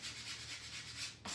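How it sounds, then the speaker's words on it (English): A sanding block rubs over a painted wooden door-hanger craft in close, quiet back-and-forth strokes with a brief pause before one last scrape, and nobody speaks. "I'm just using each sanding block with a different color"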